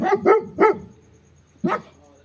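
A big dog barks close by, three quick loud barks followed after a short pause by one more.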